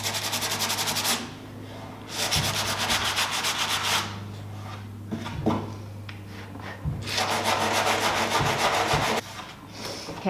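Sandpaper rubbing over a wooden dresser in steady back-and-forth strokes, close and fairly loud, with brief pauses between bursts of sanding and a constant low hum underneath.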